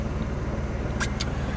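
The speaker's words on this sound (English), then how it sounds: "And there's the compressor." Geo Metro car's AC compressor engaging while the engine idles very low: a steady low idle drone with two quick sharp clicks about a fifth of a second apart.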